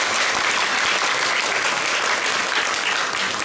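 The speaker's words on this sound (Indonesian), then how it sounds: "Tepuk tangan semuanya" A crowd applauds at an official gathering in NTT, Indonesia, a dense, steady clapping that holds at full strength from start to finish.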